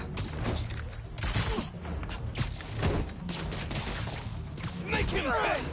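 Gunfire in the Spider-Man 2 video game, dense bursts of shots rattling over a loud, busy mix of game effects, with voices shouting over the din.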